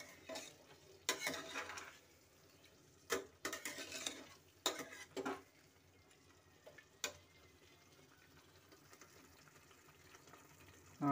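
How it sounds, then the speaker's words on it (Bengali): Turmeric and yogurt coated chicken stirred in a pan, a few sharp bursts of spoon scraping and clatter over a faint background sizzle, with long quieter stretches between. "ভালো করে নাড়াচাড়া করব।"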